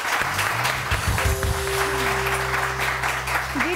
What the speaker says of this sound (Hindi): इसमें तो ताली बजती है।